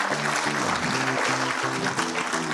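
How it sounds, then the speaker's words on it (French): Sustained applause from a school audience at a finals ceremony, steady and full, with a tonal voice or music line running faintly underneath. "On les applaudit, on les applaudit très fort"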